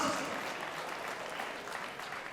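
Audience at a charity auction applauds a winning bidder, a brief steady wash of clapping heard at a distance.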